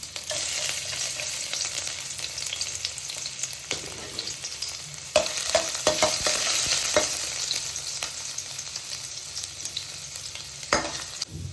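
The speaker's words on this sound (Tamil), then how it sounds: "எண்ணெய் காஞ்சிச்சு. கட் பண்ண இஞ்சியை போட்டுக்கிறேன். பொடியாக கட் பண்ண பூண்டையும் சேர்த்துக்கலாம்." Chopped ginger and garlic frying in hot oil for an Indian-style pasta, a continuous close sizzle with occasional sharp stirring clicks and scrapes.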